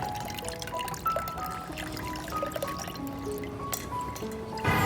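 A garlic, aloe vera and rice water mixture is strained, giving faint liquid trickles and drips with small clinks, close and quiet, with no talking.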